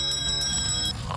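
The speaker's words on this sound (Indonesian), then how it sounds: "Kita butuh suara bel yang lebih kencang." A bell rings in a fast, bright, rapid repeating trill that stays at a steady level for about a second, then fades slightly, with no voices over it.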